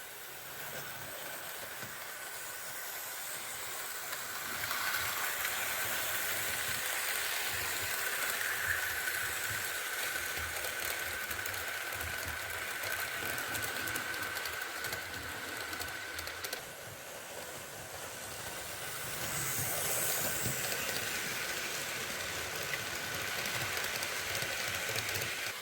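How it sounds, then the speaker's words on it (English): A Mehano Union Pacific Camelback model train locomotive runs along its track pulling a train, a steady, faint whirring motor hum with a light hiss that rises and falls as it passes. "as you can see, it's pulling this train"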